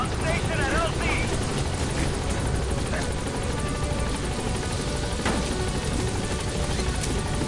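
Pequod's helicopter in Metal Gear Solid V arriving at the landing zone, a steady, loud rotor drone that fills the whole clip, with a voice speaking over it.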